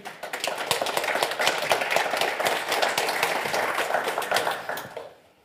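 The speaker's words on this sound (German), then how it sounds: "Ja, verdienter Applaus." An audience at a panel discussion applauds steadily with many separate claps, sustained at moderate loudness before dying away abruptly at the end.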